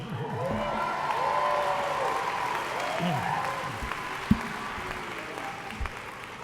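A commencement audience at a spring undergraduate graduation keeps up a soft, continuous wash of clapping, with a few sharper pops and faint voices mixed in.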